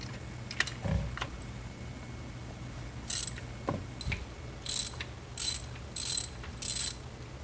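A ratchet loosening spark plugs on the engine of a 1989 Toyota pickup, with short, crisp bursts of clicking repeating at a steady pace alongside a few dull metal knocks, all close by.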